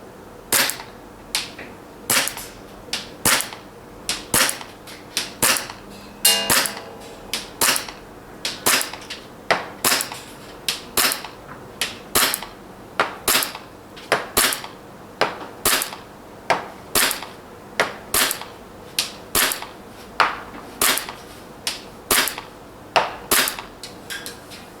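A WE Galaxy G Series airsoft pistol fires BBs at a target in a long series of sharp, snappy cracks. Some shots come in quick pairs and others are spaced a second or so apart, close and loud, with no talking.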